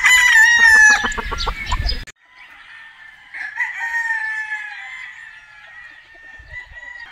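Boston Roundhead brood stag rooster crowing up close, a loud harsh opening burst with clucking, then a long drawn-out crow that trails off, no talk.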